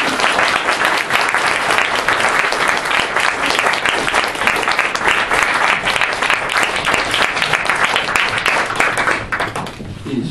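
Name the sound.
audience applause welcoming a speaker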